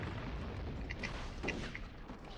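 A cannon fires and explodes in the video game Red Dead Revolver. The blasts are muffled and sound fairly distant, a couple of dull thuds over a constant low rumble.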